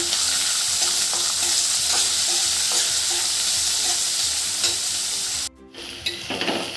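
Steady, loud sizzle of onions frying to light brown with scraping stirring sounds in a pan, then the sizzle abruptly drops away near the end, followed by a few clatters.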